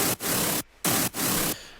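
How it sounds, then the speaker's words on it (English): Serum synth white noise, its volume chopped by an LFO into loud hissing bursts separated by short near-silent gaps, three to four pulses in quick rhythm, with nothing else heard. "So just the white noise alone sounds like this."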